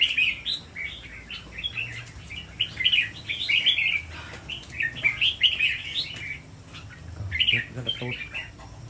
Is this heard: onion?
no